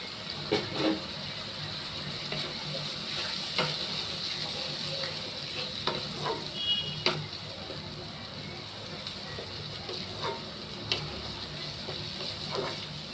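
Masala spice paste stir-fries in a pan over raised heat, giving a soft continuous sizzle and hiss broken by scattered scraping and stirring knocks, fairly faint and with no voices.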